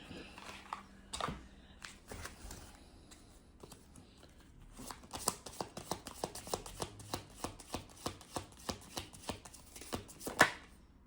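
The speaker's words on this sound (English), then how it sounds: "Let me pull some of these cards." Tarot cards being shuffled and pulled: soft scattered rustles at first, then a fast run of close, crisp card flicks and slaps that ends with a sharper snap.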